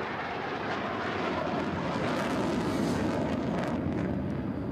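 A Saab AJ 37 Viggen jet roars steadily through an air show demonstration at Volkel, a loud, broad and continuous engine rumble with no break.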